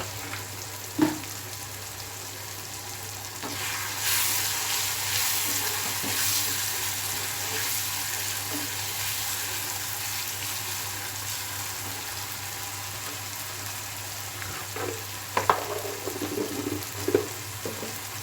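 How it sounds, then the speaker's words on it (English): Chopped vegetables for poha sauté in a pan with a soft, steady sizzle, broken by a few utensil clinks and scrapes near the start and again toward the end. "Saute for just 2-3 minutes"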